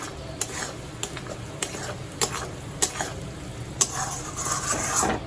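Butter chicken is stir-fried in a pan, with a sharp spatula knock against the pan about every half second over a low sizzle; the sizzle and scraping grow busier toward the end.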